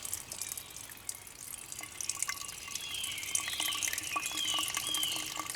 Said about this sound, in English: slowly water will start to come out of the filter